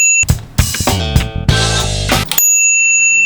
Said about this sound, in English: The bell that you had on the left-hand handlebar